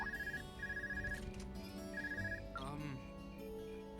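A phone rings in the video game Trails of Cold Steel, with repeated short bursts of bright electronic trilling over game music, and a voice speaks briefly toward the end.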